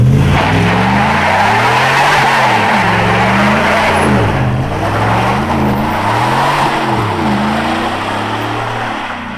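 A Nissan 240SX does a burnout, its engine revving up and down in repeated wavering surges over loud continuous tire squeal and skidding, close and intense, slowly fading toward the end.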